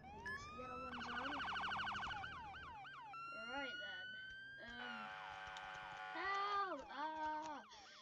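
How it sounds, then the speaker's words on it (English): A police car siren wails and yelps through changing patterns, with electronic warble and rising tones, fairly loud and continuous, during a traffic stop. "then we're gonna put the sirens on"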